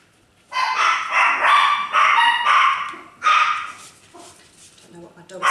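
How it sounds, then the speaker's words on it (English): Several dogs bark at night in a series of loud, overlapping bursts, with pauses between volleys and quieter yips and whimpers near the end, heard from close by. "Don't know what my dogs are barking at this time of night."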